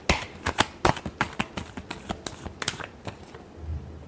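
Tarot cards are being shuffled up close during a reading: a run of sharp, papery riffles and snaps, quick and irregular, fading to quieter flicks near the end with no voices.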